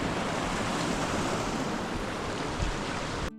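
Steady broadband rush of a river flowing at a mountain crossing in mid-September, loud and close, a continuous wash of water with no talking.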